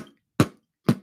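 A beatboxed bass drum, a voice imitating the big floor drum played with the foot, given as two separate deep, punchy thumps with silence between them.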